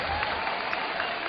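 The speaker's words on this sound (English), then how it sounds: "Applauding doesn't feed me, does it, you know?" Applause from a live concert audience during band introductions, a steady wash of clapping that fills the short stretch without any talk over it.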